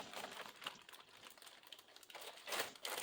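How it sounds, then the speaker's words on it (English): Crinkly plastic bag holding a Walthers Northern Light & Power model kit's parts being opened, a few close, soft rustling crackles with a brighter burst near the end. "I'll go ahead and open up the bag and see what type of parts we have in here."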